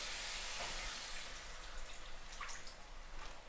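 White wine poured into a hot pan while cooking a squid bolognese, a soft steady splashing and sizzling hiss that continues for a few seconds without talk.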